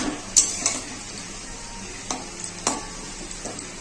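Spice paste for a rohu fish curry with potato and pointed gourd is sautéed in a pan, a soft sizzle under sharp spatula scrapes and metallic clinks that come in a few irregular strokes.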